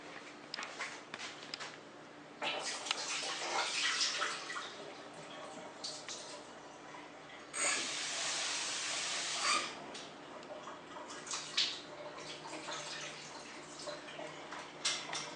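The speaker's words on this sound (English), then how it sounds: "I'm going to go ahead and rinse this out one more time" Tap water runs into a pot while potatoes are rinsed, a steady splashing stream with irregular clatter and bursts that swell and fade, close and fairly quiet, without any voices.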